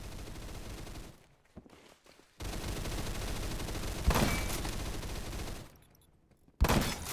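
Mosin rifle shots in the Phantom Forces shooter: loud sharp reports separated by quiet gaps, a strong crack near the middle and another toward the end, amid game noise.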